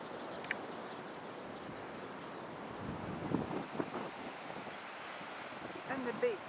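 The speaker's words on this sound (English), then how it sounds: "And the beach right here." Ocean surf washes onto a beach at Ohope under constant wind buffeting the microphone, a broad hissing roar that swells slightly midway and again near the end, with no clear talking.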